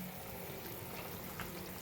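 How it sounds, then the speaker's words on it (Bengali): Fish being lowered into a pot of boiling gravy while cooking tel koi, a faint, steady bubbling sizzle with a soft splash partway through. "এবার আমি মাছগুলো ঝোলের মধ্যে দিয়ে দেব"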